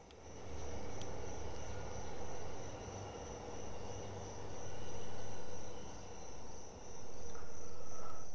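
Crickets chirp steadily in the horror video game SENSEs: Midnight, a continuous high-pitched trill held throughout over a dense, noisy night ambience.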